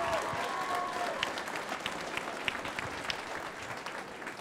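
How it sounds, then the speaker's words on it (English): A crowd at a cage-fighting event applauds two fighters after the bout, a steady wash of clapping heard from a middle distance, with occasional sharper claps and a faint cheer on top. "give these two fighters one more round of applause"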